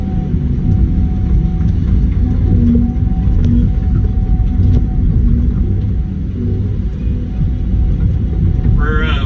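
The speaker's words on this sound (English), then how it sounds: "We're grinding storm debris, and it's going to a farmer" A Tigercat 6900 grinder chews through storm debris with a loud, continuous low rumble and throb, heavy and unbroken throughout, with a brief voice near the end.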